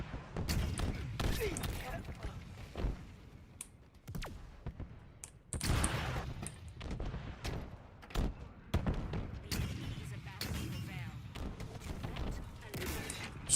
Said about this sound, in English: All I can hear is just fucking rocket explosions in the distance.